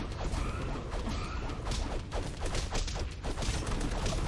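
Dense, continuous combat hits and clashing impacts from the Castle Crashers video game, loud and busy throughout a short fight with overlapping crashes and swooshes.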